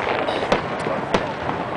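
Fireworks before the Texas Stadium implosion: two sharp, loud bangs over a steady wash of outdoor noise, with faint voices in the background.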